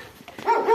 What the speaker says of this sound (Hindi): कुत्ता देखो भौंक रहा है हम पे